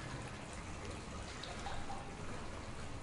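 Water drips and trickles through sewer tunnels in Resident Evil 7, a steady wash of dribbling liquid with faint irregular drips running continuously throughout.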